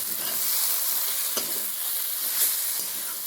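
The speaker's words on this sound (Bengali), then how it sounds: "আবার কিন্তু দিয়ে খুব ভালো করে নেড়ে চেড়ে মিশিয়ে নিচ্ছি এই মাংসের পুরের সাথে" Chicken samosa meat filling with meat masala sizzles steadily in a hot pan, a close bright hiss with occasional soft scraping knocks as it is stirred, no voices.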